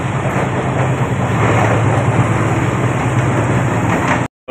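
An air-conditioned suburban local train rumbles past close by in Mumbai, a steady loud roar with rhythmic clatter from the wheels, continuing throughout before cutting off abruptly at the end.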